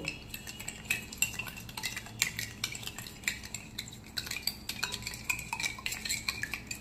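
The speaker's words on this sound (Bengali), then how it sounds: "এবার আমি চিনিটা আর ডিমটা ভালো করে একটু গুলিয়ে নেব।" A utensil beating sugar and egg together in a bowl, with quick repeated clinks and scrapes against the bowl in an uneven rhythm, close up and moderately loud, no voices.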